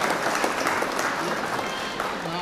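Sustained audience applause at a mushaira poetry gathering and honour ceremony held at a town council (nagar panchayat) venue, a steady dense wash of clapping that continues without pause.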